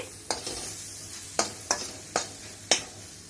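Food frying in a pan on a gas stove is stirred with five quiet, sharp spatula scrapes spaced about half a second apart over a soft low background.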